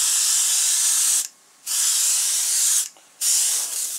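Airbrush spray paint hisses steadily onto a walleye fish mount, with two brief pauses where the spraying stops before resuming, close and alone without talking.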